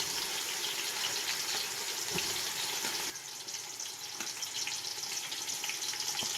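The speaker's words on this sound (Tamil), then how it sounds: "இப்போ இதில் இந்த வெங்காயம் நல்லா வதங்கணும்." Half a kilo of chopped onions frying in reused oil for a large batch of dum biryani, a steady close hiss and sizzle with no talk throughout.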